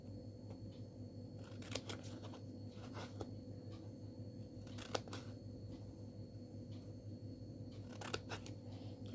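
Scissors snip through paper lines for an origami cup in a quiet room, a few brief sharp cuts spaced several seconds apart over a low hum.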